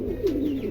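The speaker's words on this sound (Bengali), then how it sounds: "চমৎকার এক জোড়া কবুতর।" A Lakkha pigeon gives a single short, close coo, soft and low, against a quiet background.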